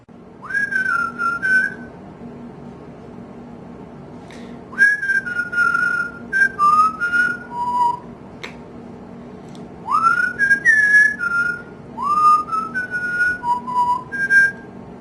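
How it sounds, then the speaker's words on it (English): A person whistles a slow, wandering tune in clear, close phrases with short pauses between them, alone and without talking. "I also learned to whistle."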